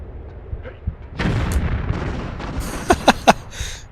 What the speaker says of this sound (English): I'm actually going to grab my grenade launcher.